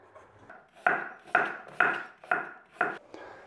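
Celery and carrots are chopped with a knife on a cutting board: about six sharp, evenly spaced strikes, close and distinct, with soft scraping between them and no talk.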